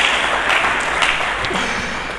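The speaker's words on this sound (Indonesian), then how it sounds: "Mari kita berikan tepuk tangan bagi Yesus Kristus." Steady applause from a church congregation during a sermon, a dense wash of clapping that holds evenly throughout without voices.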